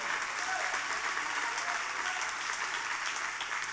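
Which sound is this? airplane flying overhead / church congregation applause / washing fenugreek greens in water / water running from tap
church congregation applause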